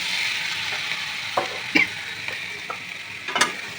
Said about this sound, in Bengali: মটর সেদ্ধ করে নিচ্ছি, এবার এই মশলায় দিয়ে দেবো